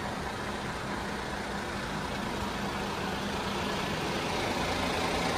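A MAN RR bus engine idles in a steady, smooth low rumble, constant and fairly quiet with no speech over it.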